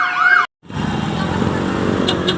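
A fire truck siren wails briefly, cuts out, then gives way to a busy rumble of traffic and engine noise in Manila as fire trucks arrive, with faint sharp tones near the end.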